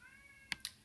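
A house cat meows loudly twice in quick succession, two sharp, close cries to be let in, following a steady faint tonal hum.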